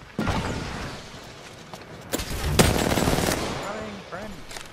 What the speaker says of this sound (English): Oh shit! I am getting shot at.